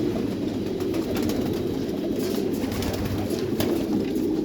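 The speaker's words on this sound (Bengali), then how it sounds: "দেখুন এরা কিভাবে কবুতর পালন করছে।" Pigeons kept in a closed indoor coop coo continuously in low, throaty murmurs, several birds overlapping at close range, with faint rattling and knocks in the background.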